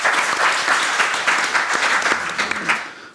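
An audience at a 2015 academic forum marking 70 years since Korean liberation applauds to welcome a speaker, steady dense clapping from many hands filling the room for the whole stretch.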